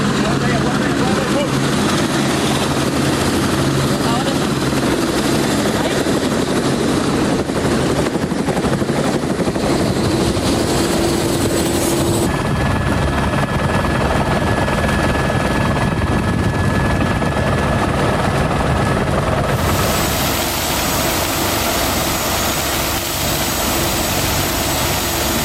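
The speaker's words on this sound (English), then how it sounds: "We're being rushed onto the helicopter now. It's landed." A landed rescue helicopter at a Brazilian flood site roars loudly and continuously up close, its rotor and turbine noise steady throughout with voices talking beneath it.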